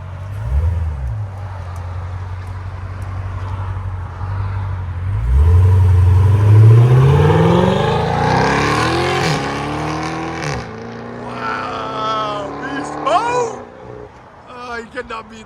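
A 2023 Dodge Charger Hellcat with Carven mid mufflers and Valvetronic rear mufflers, valves open, idles with a deep burble, then climbs through several loud, close revs that rise and fall before settling back.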